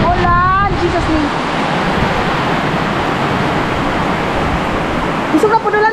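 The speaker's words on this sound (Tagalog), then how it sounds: "Ang lakas na naman ng ulan." Heavy rain pours onto floodwaters around a house in the Agusan Marsh, a dense steady roar filling the scene, with voices talking briefly at the start and end.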